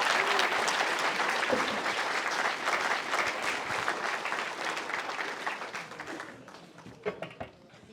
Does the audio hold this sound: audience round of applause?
yes